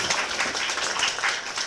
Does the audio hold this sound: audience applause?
yes